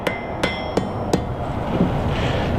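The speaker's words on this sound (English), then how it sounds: "bring it right over to the step of the anvil and kind of hit it back into that step to create kind of a curve" Hot steel leaf is hammered on the step of an anvil with four sharp, ringing metallic blows at a steady pace, then a quieter stretch of faint shop noise.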